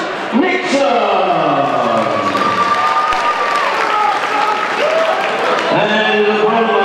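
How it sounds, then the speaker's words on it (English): Crowd applause and cheering fill a boxing event hall, loud and continuous throughout, with voices and shouts mixed into the dense clapping. "Thank you, big round of applause,"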